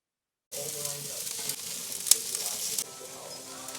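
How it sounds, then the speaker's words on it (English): A thin steak sizzles steadily on a hot grill, a loud continuous frying hiss that starts abruptly and holds for several seconds, with a sharp pop partway through. "20 minutes later, thin steak on, we'll let it go"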